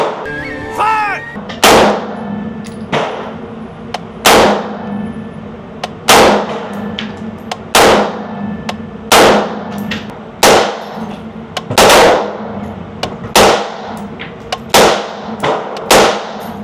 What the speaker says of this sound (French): On va faire quelques tirs sans réducteur de son pour voir la différence.